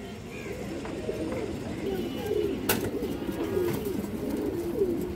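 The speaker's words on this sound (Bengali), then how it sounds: "খুবই সুন্দর একটা খরা গলা মাদি কবুতর মাশাআল্লাহ" A female pigeon with a coloured throat coos softly in repeated low phrases, close by, while someone talks over it.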